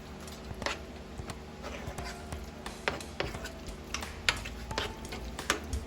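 A spoon stirring ziti sauce in a pot, giving soft scraping and clinking strokes at an irregular pace, close and moderately quiet, with faint kitchen background hum.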